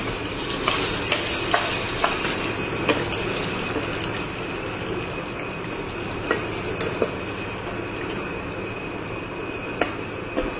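Food seasoned with salt and turmeric sizzles steadily in a pan while a utensil stirs it, adding regular light scraping clicks over the continuous frying hiss.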